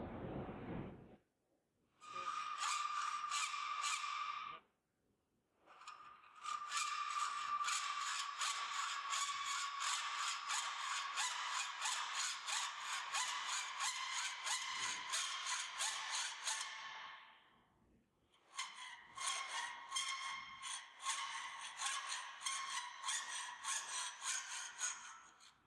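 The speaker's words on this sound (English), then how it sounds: "Now don't saw all the way to the finished surface that your cut is working its way towards." A hand hacksaw cuts a notch into a metal workpiece in steady back-and-forth strokes, loud and close, with a couple of brief pauses between runs of sawing and no talk.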